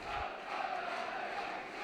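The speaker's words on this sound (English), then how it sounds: "The Dundee crowd are singing below me." Dundee football fans singing in the stands during a match against Livingston, a steady, dense crowd chant that carries across the stadium from below.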